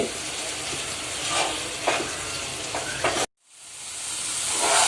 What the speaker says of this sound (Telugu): ఆయిల్ దగ్గరికి వచ్చే వరకు ఉడికించుకుందాం.